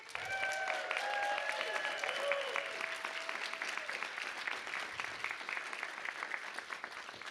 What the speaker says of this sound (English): You got more applause than Michael Cunningham did.